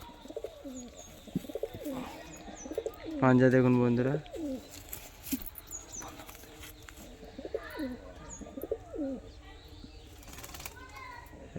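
Pigeons kept on the ground coo repeatedly close by in soft rolling bursts, while someone talks over them and a louder tonal sound briefly cuts in.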